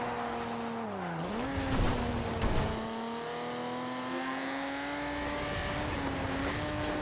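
A sports car engine in the racing game Forza Horizon 2 revs and holds a loud, steady drone with rising and falling pitch shifts and brief tire squeal, close and continuous.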